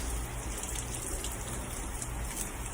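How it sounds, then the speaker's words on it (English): Aloe vera leaves are rinsed under running water, producing a steady, faint splashing patter that continues throughout with no voices. "So we're going to start off by rinsing the aloe off."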